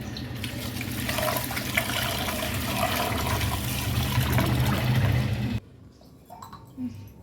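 Rice being washed in water while preparing ven pongal, a continuous close swishing and splashing that stops abruptly near the end, leaving a quieter background with faint clinks.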